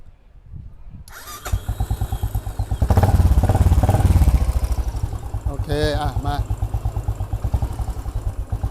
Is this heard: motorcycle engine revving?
yes